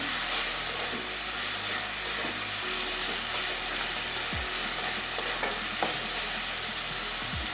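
Okra and soya chunk curry fries and sizzles steadily in a pan as turmeric is stirred in, a loud continuous crackle and hiss close by with scattered stirring scrapes, no talking.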